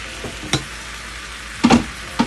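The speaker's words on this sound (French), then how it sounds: "on va les touiller tout doucement" Carrots are stirred in a frying pan over a steady low sizzle, with a few distinct scraping strokes spaced across the short stretch.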